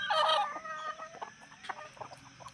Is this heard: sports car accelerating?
no